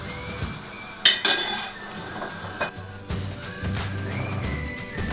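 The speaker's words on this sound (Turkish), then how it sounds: "Kaynara geldi mi kapağını alıyorum." Metal lid lifted off a boiling pot of köfte on the stove, a couple of sharp clanks and clinks followed by softer scraping and bubbling, close up with no voices.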